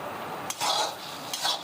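Green chillies and coriander stir-frying in a karahi, two scraping spoon-on-metal strokes over a faint sizzle, no talk.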